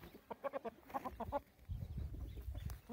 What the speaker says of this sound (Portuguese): Esse aqui é um frango.